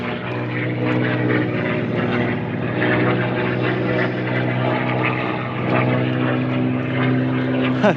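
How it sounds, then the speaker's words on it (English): Loud, continuous droning of old propeller planes passing overhead at Lee-on-the-Solent, UK, a deep steady engine hum with a rough pulsing texture throughout. "The old planes there, it's a bit noisy out here."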